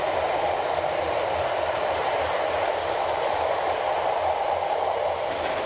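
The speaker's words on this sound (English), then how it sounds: "our state-of-the-art loco has the task of hauling the train up the narrow" A Swiss GE 4/4 electric locomotive hauls the Glacier Express, a steady, continuous rail rumble with rolling wheel noise, close and even throughout, with no voices.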